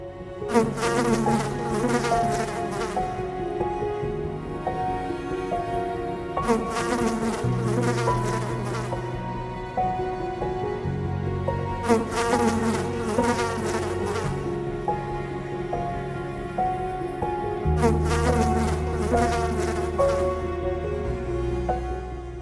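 Wasps buzz in a loud, continuous drone whose pitch shifts and swells in roughly five-second waves, with no talking.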